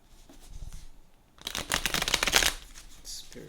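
A quiet moment, then a brisk riffle of cards being shuffled up close for about a second, followed by soft handling noises.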